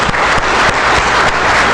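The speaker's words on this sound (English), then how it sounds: "A big round of applause," A conference audience at a forensic accounting and fraud detection event gives a loud, dense round of applause, many hands clapping at once without a break.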